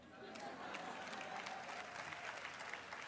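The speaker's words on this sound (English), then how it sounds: "there would not be a hall full of people applauding that line" A lecture hall audience applauds steadily, a dense wash of clapping hands filling the room at an even level, with a few voices mixed in.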